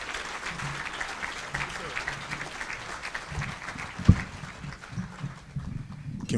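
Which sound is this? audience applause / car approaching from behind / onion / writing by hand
audience applause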